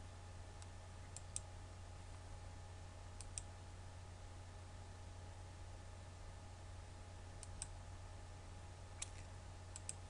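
Faint computer mouse clicks, single and double, come at scattered intervals over a low steady hum from a computer workstation, with no talking.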